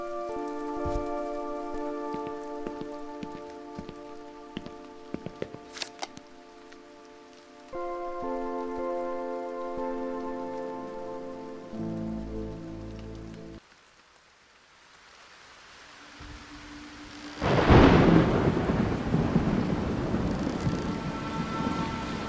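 A thunderstorm in The Haunting of Joni Evers breaks in with a sudden loud wash of rain and a rumble after a quiet stretch, following earlier musical tones, then heavy rain persists.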